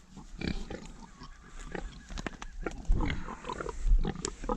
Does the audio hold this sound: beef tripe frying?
no